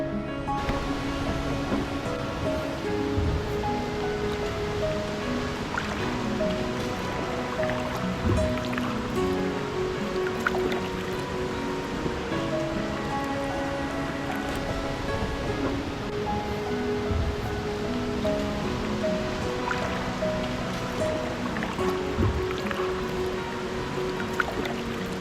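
Water flows steadily along Wright's Creek in Florida, a continuous, even rushing and burbling that holds for the whole stretch with no voices.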